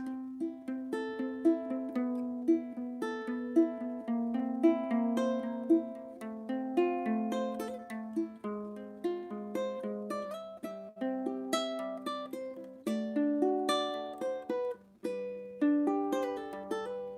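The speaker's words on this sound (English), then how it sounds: "I wrote the song around a low G ukulele specifically because I was able to create this really rich low bass line" A low G ukulele plays a chord melody over a deep, rich bass line, steady plucked notes and strummed chords ringing out alone for the whole stretch.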